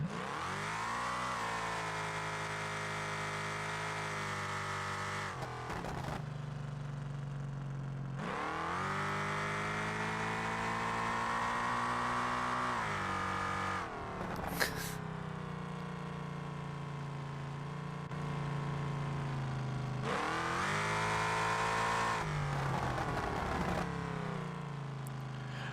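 A muscle truck's 5.3 V8 in the BeamNG.drive racing game revs hard in three or four long climbing pulls, each dropping back to a low idle between bursts, loud and close with no talk.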